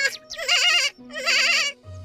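A goat bleats twice in quick succession, each call a loud, wavering, harmonically rich cry up close, separated by a short pause and followed by a low grunt.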